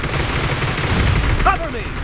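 Dense, continuous gunfire and explosions in the mobile battle royale game Battlegrounds Mobile India, loud and constant with a brief voice surfacing midway.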